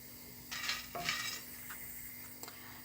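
Soya chunks stirred in a non-stick pan make scraping and rubbing sounds from a utensil, a few soft strokes and light taps over a quiet background sizzle, close but low in volume, no voices.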